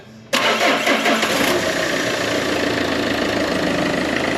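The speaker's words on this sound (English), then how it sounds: "Give it a big start, Rooney" A Peugeot 406 HDi diesel engine cranks briefly and catches almost at once, settling into a loud, steady, rattly idle close by.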